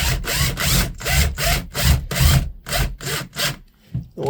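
Self-tapping screws being driven in with a tool, a rhythmic series of about ten grinding, rasping bursts roughly every half second, close and fairly loud, with no talking.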